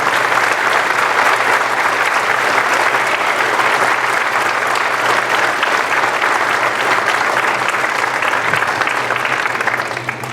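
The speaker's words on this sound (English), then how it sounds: "let's give these ladies and parents another round of applause" Sustained applause from a crowd at a Veterans Day ceremony honoring Gold Star mothers and parents: loud, dense clapping that holds steady for about ten seconds with no talk over it.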